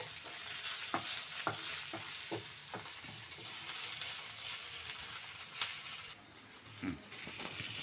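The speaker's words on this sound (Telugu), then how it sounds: "పుదీనా వేగుతుంది ఇంకా పచ్చి వాసన అంతా పోయేదాకా పుదీనాను వేయించుకోవాలి" Mint leaves fry in a pan for a chutney, giving a steady close sizzle broken by regular stirring scrapes and taps, with no talking.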